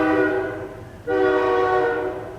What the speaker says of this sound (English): if you can hear the trains in the background